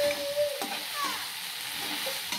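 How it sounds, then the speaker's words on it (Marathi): Okra mixed with a salted green chili and garlic paste sizzles steadily in a pan as it is stirred, a close, even hiss with a few scraping strokes before it cuts off abruptly. "ते मिक्स करून थोडंसं अजून असं फ्राय करून घेते"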